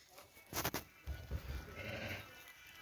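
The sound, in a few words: sheep bleating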